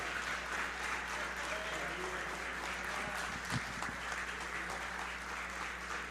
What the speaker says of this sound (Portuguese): Aplauda o Deus da Bíblia aqui nesta casa.